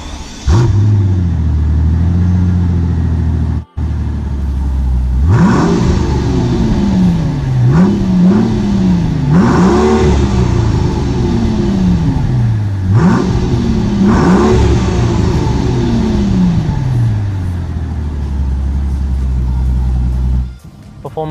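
A Mercedes-Benz CL600 V12 engine revving hard several times in a row, the pitch climbing and dropping with each rev, loud and close.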